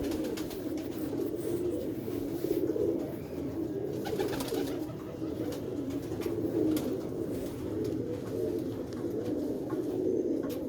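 Pigeon cooing in a low, continuous rolling murmur, close and fairly loud, repeating without pause over a steady background.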